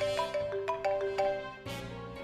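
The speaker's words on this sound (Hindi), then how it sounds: "कमिश्नर के फोन।" Ringtone of a police commissioner's phone in a Hindi TV drama scene: a repeating electronic melody of bright notes, fairly loud and close, playing alone with no talk.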